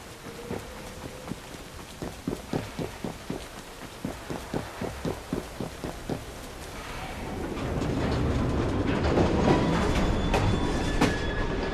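A train rolls along the rails in Assassin's Creed Syndicate, with a steady, evenly spaced clickety-clack of wheels over rail joints that gives way to a louder, continuous rumbling roar as it picks up speed.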